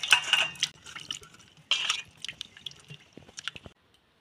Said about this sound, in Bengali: আঙুরগুলো ভালো করে জল দিয়ে ধুয়ে নিচ্ছি।